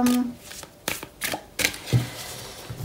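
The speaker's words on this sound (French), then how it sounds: "on bat les cartes" A deck of tarot cards is shuffled by hand in several quick, close riffles and slaps separated by short pauses, with a voice faintly present alongside.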